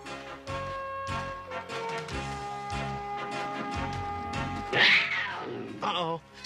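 A cartoon saber cat growls and yowls over a tense, tonal musical score, with a sharper snarling cry rising near the end.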